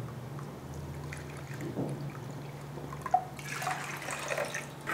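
Water poured into a pan to make sugar syrup for gulab jamun, a steady trickling pour with faint drips, close and moderately quiet, with no talk over it.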